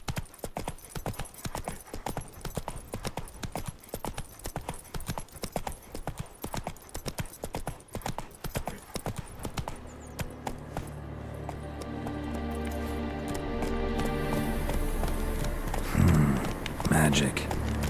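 Horse hooves trotting in The Witcher 3, a steady clip-clop rhythm close by for most of the stretch, later mixed with a rising swell of game music and ambience; a brief voice is present.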